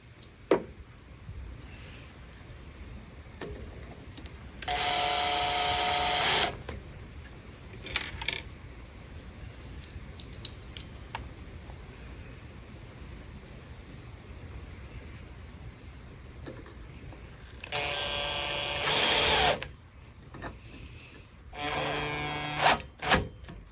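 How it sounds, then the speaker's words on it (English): Small screws driven into a wood-turned magnifying display box with a power driver, two loud whirring bursts of a few seconds each separated by long quieter stretches with faint handling clicks. "now I'm ready to put in my little screws"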